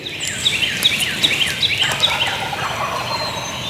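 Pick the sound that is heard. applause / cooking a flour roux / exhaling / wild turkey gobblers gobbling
wild turkey gobblers gobbling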